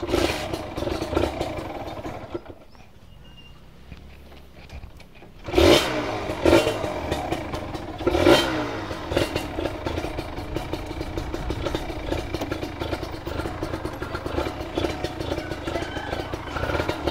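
Kawasaki Ninja 150RR with a stock engine and a drilled-out stock exhaust, running close and loud with a steady buzzing drone, a quieter lull, then sharp rev bursts before settling into a continuous roar.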